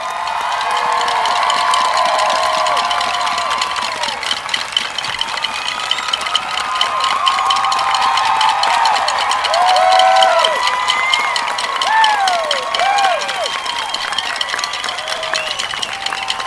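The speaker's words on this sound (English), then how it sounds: "Let's give them a round of applause." Large stadium crowd at a postgame alumni band event applauds and cheers for military veterans and first responders, a continuous loud roar of clapping with whoops and shouts throughout.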